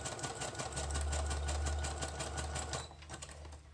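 A sewing machine stitches a paper journaling card with a quick, even mechanical chatter and low motor hum for about three seconds, then winds down and stops, close and alone.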